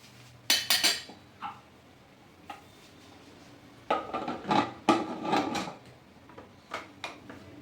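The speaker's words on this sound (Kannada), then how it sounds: "ಸೊ ಈಗ ಕುಕ್ಕರ್ ಲಿಡ್ ಕ್ಲೋಸ್ ಮಾಡೋಣ." A metal pressure cooker holding sprouted horse gram and water is shut with its lid, giving several sharp clanks and clattering metallic knocks in separate bursts, with quiet pauses between; no talking.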